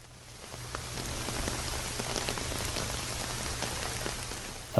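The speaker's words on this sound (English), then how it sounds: "Then the rain soon turned into a full shower." Heavy rain pours steadily onto a tent surface outdoors in the woods, a dense, even hiss of drops with faint scattered patters, close and continuous without voices.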